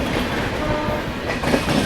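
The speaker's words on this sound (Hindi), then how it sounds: "ओहो WAP7 लोकोमोटिव के साथ कौन है भाई?" Indian train hauled by a WAP7 electric locomotive rumbling past with steady clickety-clack of wheels over rail joints, loud and continuous, no talk.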